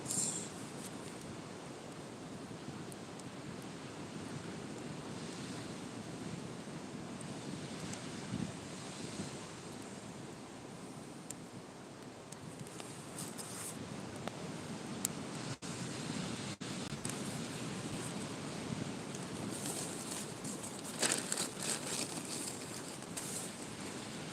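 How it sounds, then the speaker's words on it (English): Offshore wind at a beach blows steadily against the microphone, mixing with a continuous surf wash, a broad noisy rush with occasional gust bumps and no voices. "this fucking wind is offshore"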